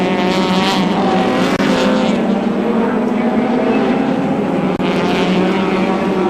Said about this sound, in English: The first of the Group A cars being lapped.